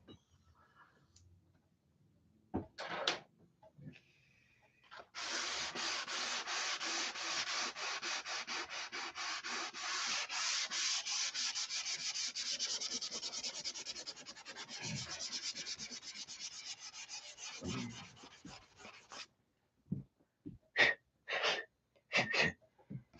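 Hand sanding filler with 80-grit paper on a Tucker XL wing repair, a long steady rasping stroke run of about fourteen seconds, close and clear, bracketed by a few brief scuffs and quiet gaps.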